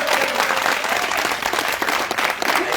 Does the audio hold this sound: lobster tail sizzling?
no